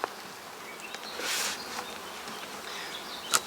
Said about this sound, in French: Voilà, sans écraser les abeilles.